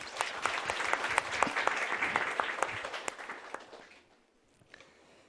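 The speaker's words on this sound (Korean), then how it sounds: "우리 박수를 한번." A church congregation claps in warm, steady applause after a choir's lively hymn, then the clapping fades out to near silence over the last second.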